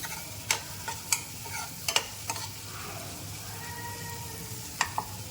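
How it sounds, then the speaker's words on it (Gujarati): Spices being stirred into hot oil in a pan while making bajra rotla, a steady sizzle with a series of sharp scrapes and clinks from the spoon against the pan, close and alone. "બધી વસ્તુ ઉમેરી દીધી છે સારી રીતે મિક્સ કરી દઈશું એટલે જે મસાલા છે એ તેલમાં સારી રીતે મિક્સ થઈ જશે"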